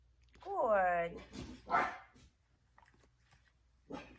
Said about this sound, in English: For sure, I have 2 reactive dogs here, which is good.